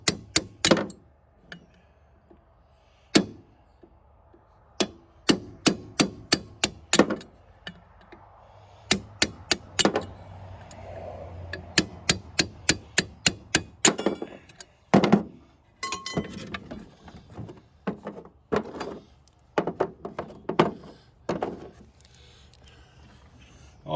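Bolts come off a Pontiac wheel on a 1928 International truck as a series of sharp metallic clinks and rattles. They arrive in quick clusters separated by quiet gaps, close and without talk.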